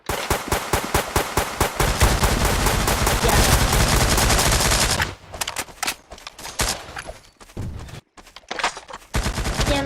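Rapid bursts of automatic gunfire in a Fortnite-style video game, loud and dense for about five seconds, then breaking into scattered shorter volleys with brief gaps.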